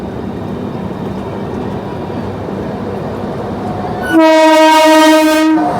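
A moving passenger train rumbles steadily along the track, close and loud, then a long, sustained horn blast sounds for the final couple of seconds on the Jharkhand Sampark Kranti express.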